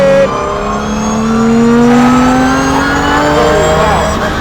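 A BMW E34 drift car's engine pulls hard on a track, its rising harmonic tone climbing steadily as it accelerates in fourth gear, loud and close, with a driver's voice briefly over it.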